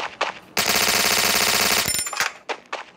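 Rapid machine gun fire from a video game rattles out in a dense, continuous burst for over a second, framed by a few shorter sharp shots before and after; no talking.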